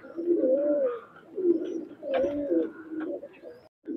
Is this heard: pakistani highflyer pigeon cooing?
yes